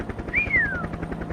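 A helicopter sits on the ground with its engine hot, and a steady, pulsing rotor thump fills the background. A high, sliding whistle-like tone cuts across it briefly, and no one speaks.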